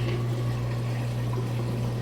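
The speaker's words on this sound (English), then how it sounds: "You can hear it draining that water out nice and fast." A Maytag Bravos top-load washer drains its water quickly, giving a steady, continuous rush of liquid with a constant low pump hum underneath, running evenly throughout at close range with no talking.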